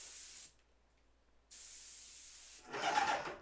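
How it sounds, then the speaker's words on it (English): A paint sprayer being test-sprayed toward a bucket when painting built-in shelves and a face frame, with steady, loud airless hissing bursts separated by a short pause, followed by a harsher, louder spray at the end. "I put my sprayer into the bucket and then I test for my pattern"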